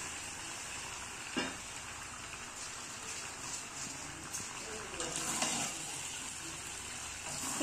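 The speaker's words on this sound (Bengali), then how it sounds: "এবার ভালো করে কষিয়ে নেব এবার মশলার সাথে" Chicken browning with ginger paste and ground coriander in a pan, giving a steady soft sizzle and frying crackle throughout, with faint clinks of stirring over it.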